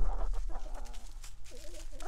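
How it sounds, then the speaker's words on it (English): Homestead chickens clucking close by, a run of short, throaty clucks and murmurs in uneven bursts against a low background hum. "Naughty chicken!"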